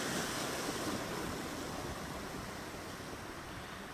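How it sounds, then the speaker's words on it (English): Ocean waves wash and surge around a rock pool near Cork Bay on the Cape Town coast, a steady, loud broadband roar of surf and spray with no talk. "Hopefully I don't get smashed by the waves."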